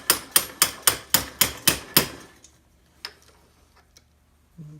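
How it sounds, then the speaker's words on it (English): A hammer taps a socket onto the CV joint of a 1974 VW Baja, eight sharp, evenly spaced metallic blows close up in quick succession, then a few scattered lighter knocks and a short scrape. "I'm just going to give this a little tap."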